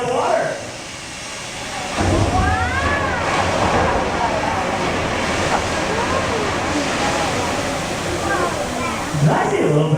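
A 1,000-gallon flood of freezing water crashes down onto tanks in a theme-park attraction at Disney's Hollywood Studios, Orlando, a loud continuous roaring rush with a voice speaking over it.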